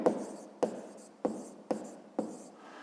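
A pen or pencil writes out a fifth-grade math exercise on paper, five short scratchy strokes at roughly half-second intervals, each starting with a soft tap and trailing off, close and quiet.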